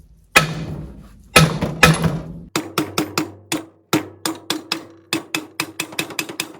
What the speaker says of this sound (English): the hitting with the hammer tends to be paying off